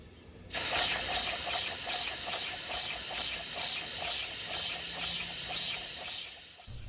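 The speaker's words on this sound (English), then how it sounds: "this is test number 1, compressed air with the steam engine and no flywheel." A homemade steam engine driven by compressed air and fitted with no flywheel starts with a sudden loud hiss. The rushing hiss holds steady for about six seconds, then cuts off abruptly.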